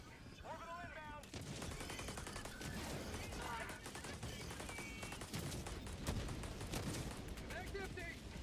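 Dense, sustained automatic gunfire crackles through a busy video game firefight, with rapid bursts overlapping and a quieter stretch before it intensifies, fairly faint and continuous throughout.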